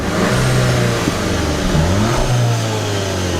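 A 1.8-liter TSI turbo four-cylinder in a 2018 VW Alltrack with manual transmission and all-wheel drive pulls hard under acceleration, its steady drone climbing and shifting pitch through the run, loud and close.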